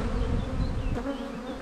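Honeybees swarm around the entrance of a weak hive under attack by robber bees from another box, a dense close buzzing with individual bees whining past the ear.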